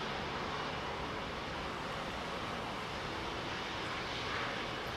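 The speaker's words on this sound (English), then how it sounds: "It's a unique sound that only the Pratt & Whitney PW4 engine has." A Boeing 777-200 with Pratt & Whitney PW4 engines at Heathrow gives a constant, loud, broadband jet roar, close and unbroken, with no talking.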